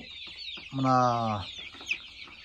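A hen gives a single drawn-out, nasal cluck up close amid soft background chatter and rustling, among hens pecking at one another.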